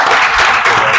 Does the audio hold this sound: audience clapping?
yes